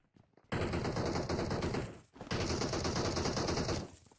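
Automatic gunfire in the mobile game PUBG Mobile: two long sustained bursts of rapid shots, loud and close, separated by a brief pause, with no voices over it.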